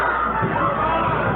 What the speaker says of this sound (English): The Maybank cheering section and the band asking for 6 points.